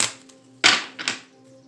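Tarot cards are shuffled and riffled, giving a few short, crisp papery bursts of flicking against a quiet room.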